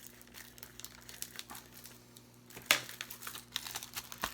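Quiet crinkling and tearing of plastic packaging as a Beetlejuice 4K Ultra HD/Blu-ray combo case is unwrapped, close up, with one sharper rip partway through and light handling rustle around it.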